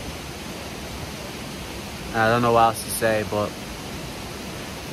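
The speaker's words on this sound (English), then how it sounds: "we reached the waterfall" Steady broadband rushing of a waterfall near Byron Bay, Australia fills the background throughout, with a person speaking briefly over it partway through.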